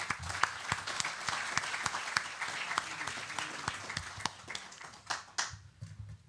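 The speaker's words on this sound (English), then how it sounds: "I would like also to clap, we, we all of us to clap for these great efforts of our kind colleagues" Audience applauding at a symposium for an exhibition of Taposiris Magna treasures: dense, steady clapping from a seated crowd, fairly close and even, thinning out to a few scattered claps near the end.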